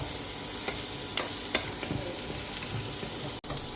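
Chopped capsicum sautéing in a hot pan while preparing a paneer chapati roll filling, giving a steady close sizzle with a few soft stirring scrapes and clicks and no talking.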